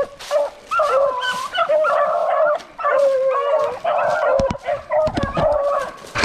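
Hunting dogs bay and yip almost nonstop while chasing rabbits through a swamp with creeks, several voices overlapping up close in long, wavering cries with brief gaps.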